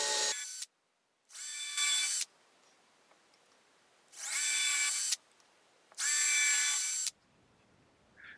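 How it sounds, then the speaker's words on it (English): A power drill whirs in four short bursts of a second or so each, drilling pilot holes in wood to mount a guitar bridge, separated by quiet gaps, close and high-pitched. "I will drill pilot holes to mount the bridge."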